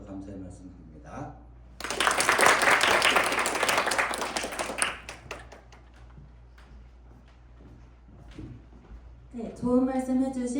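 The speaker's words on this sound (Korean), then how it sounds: "여러분들께서 큰 박수와 격려로 응원들을 해주시면 좋겠습니다" An audience at a Seoul Women's University event for its 28th mock cabinet meeting breaks into loud applause lasting about three seconds, then fades back to a quiet hall before a voice speaks again.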